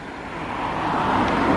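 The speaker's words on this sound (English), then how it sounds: "Beautiful sounds as the cars as they drive by on the highway." Traffic on a freshly paved coastal highway in Hualien, Taiwan, sounds as a steady road roar from cars passing, swelling louder toward the end with no voices.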